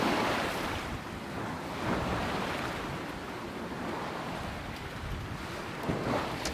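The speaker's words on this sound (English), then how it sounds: "we probably got some good 5-6 foot waves in here, some swells" Steep, short ocean waves about 5–6 feet high with swells roughly three seconds apart, heard as a continuous rushing wash mixed with gusting wind buffeting the microphone, moderately loud and unbroken, with no voices.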